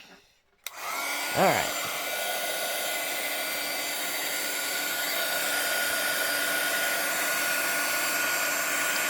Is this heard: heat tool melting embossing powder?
yes